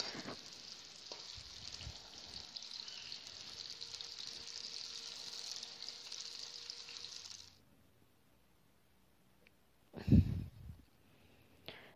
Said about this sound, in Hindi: मैंने जी प्याज शामिल करनी है और आप इसे अच्छे से फ्राई होने देंगे